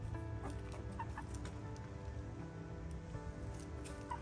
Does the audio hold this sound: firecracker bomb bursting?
no